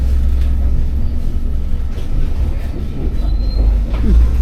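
Steady low rumble of a train rolling along the rails on arrival in Narva, Estonia, with faint squeals and clatter from the wheels throughout; no speech.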